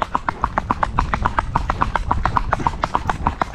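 Hooves of a Soviet-bred horse clip-clop in a quick, steady rhythm of sharp, regular strikes, close and distinct, with no voices over them.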